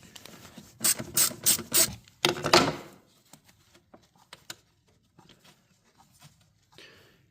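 A ratchet backs out the cabin air filter cover screws on a 2003 BMW 325i, with a few loud bursts of rapid pawl clicking up close, then fainter scattered clicks and light metallic handling.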